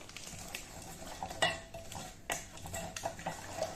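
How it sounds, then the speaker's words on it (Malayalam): Jaggery melting in a pan, stirred with a metal spoon: close, irregular scrapes and light clinks against the pan over a soft, steady background. "അപ്പോൾ ഇത് ആദ്യം ശർക്കര ഉരുക്കി വരട്ടെ"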